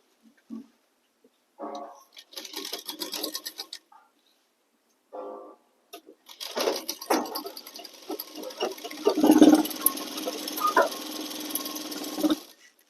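A sewing machine stitches the shoulder seam of a ladies' coat in short, separate whirring bursts, then one longer, steady run of stitching close by with no talk.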